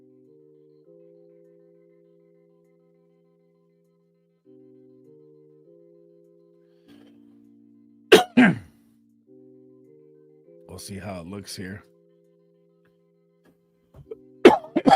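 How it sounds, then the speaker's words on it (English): A person with a cough that has lingered for three weeks gives sharp, separate coughs close to the microphone. The coughs sound over soft background music, with a short stretch of speech between them. "This cough is just unreal."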